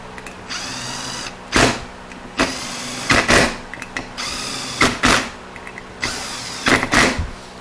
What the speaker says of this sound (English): with the driver, just throttle them in slowly and just snug them a little bit